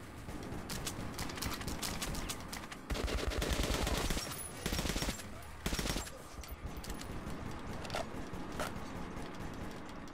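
Rapid bursts of gunfire from the video game Metro 2033 Redux, dense and continuous, with heavier loud volleys in the middle, filling the whole stretch with no talk over it.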